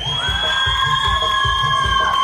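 A crowd shouts and cheers for couple number 7 at a couples dance contest in Springdale, Arkansas, a short, loud, sustained roar over a steady thumping music beat.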